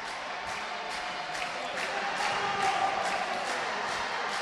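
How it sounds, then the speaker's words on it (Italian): A handball crowd at the Benevento versus Fondi match applauds steadily from a distance. A dense wash of clapping and cheering holds for several seconds without dying away. "Applausi."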